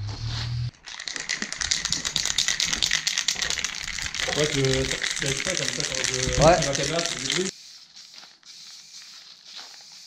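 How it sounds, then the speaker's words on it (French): A spray paint can rattles in a rapid, continuous shaking for about seven seconds, close and fairly loud, with someone talking over part of it. "moi je vais commencer à secouer aussi ma bombe, comme ça on va peindre ça en bleu"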